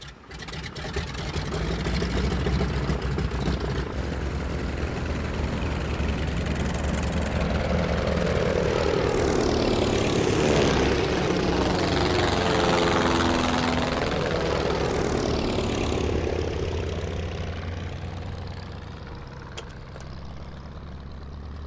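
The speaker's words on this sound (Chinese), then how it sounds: "报告秘书长，马丁机组已经起飞。" A propeller aircraft takes off in a war film scene, its engine drone building into a loud, sustained roar that swells and sweeps past mid-clip, then slowly fades.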